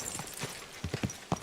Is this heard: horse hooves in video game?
yes